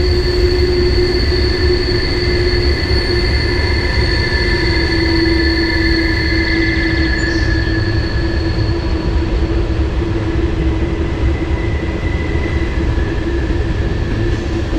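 A freight train with tanker cars rolls past close by in a continuous, loud rumble, with faint high wheel squeals running through it.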